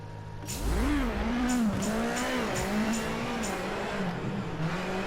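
A Ford Fiesta WRC rally car in the WRC 8 game roars steadily at high revs, the engine note rising and wavering through gear changes with faint tyre noise, loud and continuous with no talk.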